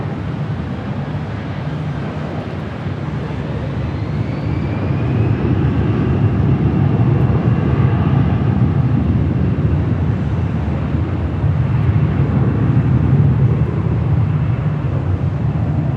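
A jet airliner departs Los Angeles International Airport on runway 24 Left, its broad engine roar rising and holding steady at a distance, with wind noise on the microphone and no talk.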